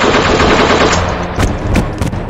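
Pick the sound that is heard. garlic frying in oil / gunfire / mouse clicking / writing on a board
gunfire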